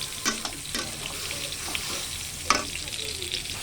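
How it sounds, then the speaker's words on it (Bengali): Prawns frying with onions and spices in a hot pan, a steady sizzle with a few sharp stirring scrapes, heard close with no voices. "এই পেঁয়াজের সঙ্গে চিংড়িগুলো ভেজে নেব।"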